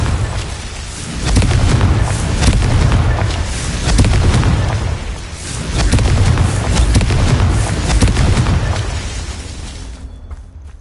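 A Confringo blasting spell in a Hogwarts wizarding game sets off loud rumbling booms that swell and recede in rolling waves over about ten seconds before fading out, with no voices.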